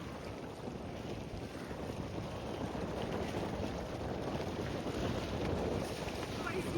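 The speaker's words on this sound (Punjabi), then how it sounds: "ਹਵਾ ਬਹੁਤ ਤੇਜ਼ ਅੱਜ ਉੱਡ ਜਾਓਗੇ" Strong wind gusts across the open shore of Sukhna Lake, a steady loud rush buffeting the microphone for the whole stretch, with faint water and lapping waves underneath.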